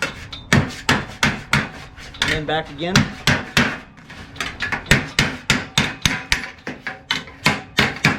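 A hammer repeatedly strikes a metal belly pan for a Maliboom car build, with sharp rhythmic whacks in a steady series, a brief metallic scraping, and a voice speaking between blows.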